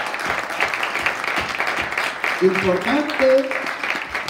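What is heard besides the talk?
congregation applauding in church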